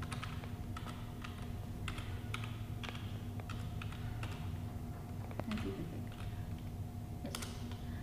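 Typing on a computer keyboard, entering a command into a Windows command prompt, steady quiet clicking keystrokes in irregular bursts over a constant low hum.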